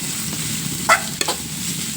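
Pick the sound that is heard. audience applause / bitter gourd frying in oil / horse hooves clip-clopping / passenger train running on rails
bitter gourd frying in oil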